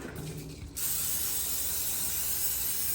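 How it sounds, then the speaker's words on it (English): A continuous close spray of nonstick cooking spray hisses steadily for a couple of seconds after a short mechanical click. "Just going to spray it good with nonstick spray"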